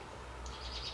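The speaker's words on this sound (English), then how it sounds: "Do you guys hear the birds chirping outside?" Faint, high bird chirps come in partway through, distant and soft over a low background hum.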